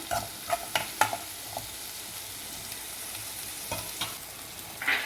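Prawns cooking uncovered in a pan for prawn thoran give a soft, steady sizzle with a few light stirring clicks and scrapes, faint and close, no voices.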